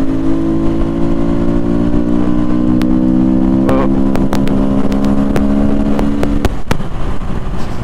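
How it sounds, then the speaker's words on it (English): An SWM RS300R motorcycle engine runs steadily nearby, a loud, constant drone with a rough edge and a few sharp clicks and knocks near the end, with no talk over it. "This is quite a noisy bike"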